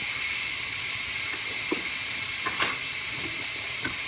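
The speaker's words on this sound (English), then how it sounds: "it's just letting out the steam now." Steady, loud hiss of steam venting continuously from a pressure pot cooking pasta, with a few faint clicks and rattles breaking through.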